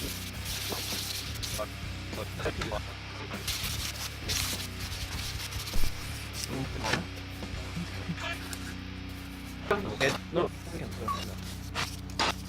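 Hand sanding the wooden handle of a knife made from a saw blade, soft steady rubbing and scratching close by, while someone talks over much of it.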